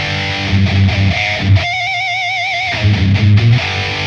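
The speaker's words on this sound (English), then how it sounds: "I put a screamer distortion." Distorted electric guitar through a screamer-style distortion on a Line 6 Dream Rig, heavy chugging metal tones broken by a brief sustained wavering lead note, loud and close with no talk.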